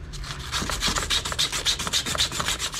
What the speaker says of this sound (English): We're going to sand down this shaft so we can slide it in easily into this blade.